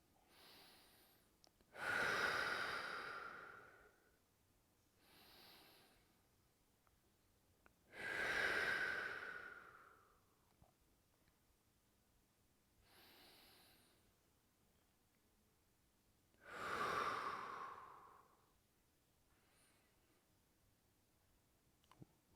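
Deep breathing during a firefighters' stretching and twisting flow exercise, three long loud exhales with quieter breaths between, close up and slow, without talk.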